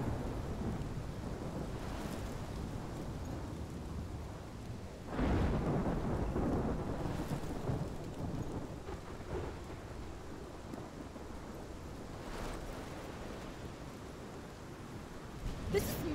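A thunderstorm with steady heavy rain in the video game Life Is Strange, with rolling thunder peaking in loud rumbles around the fifth and twelfth seconds over a constant rain wash.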